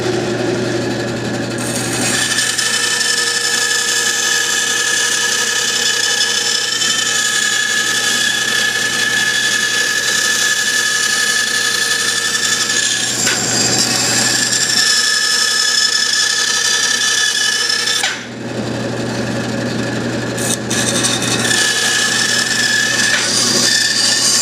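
A saw blade grinds steadily through a wood blank for a cowboy head carving, loud and continuous from start to finish. Two brief dips in the cutting come partway through, then the sawing resumes.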